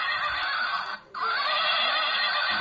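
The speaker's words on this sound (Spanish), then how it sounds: "Y viene con el relinchido de caballo." A toy rocking horse's electronic neigh plays as a bright, loud whinny that breaks off briefly for a second and then resumes, with no voices.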